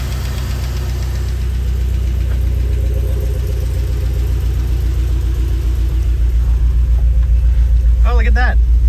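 Steady, loud, close-up idle of a 1974 Corvette with a swapped-in 4.8 LS V8, a deep even rumble with a slightly lumpy pulse throughout, and someone speaking briefly near the end.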